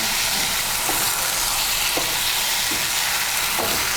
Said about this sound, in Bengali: ডিমগুলোকে মিশিয়ে নেব মশলার সঙ্গে।